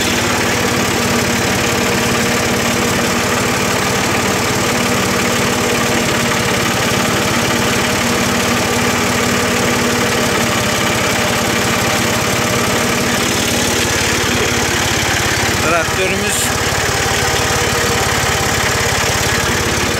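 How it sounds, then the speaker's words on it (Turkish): A Massey Ferguson 266 tractor drives a cultivator between sugar beet rows, its engine droning loud and steady at close range throughout, with a brief clatter near the end. "266 Massey Ferguson."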